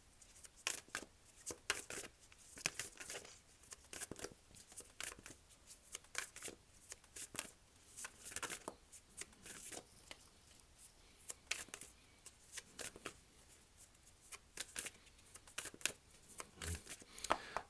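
Tarot cards being shuffled by hand at close range, giving a quiet ongoing series of soft riffling and slapping bursts in an irregular rhythm with no voice over it.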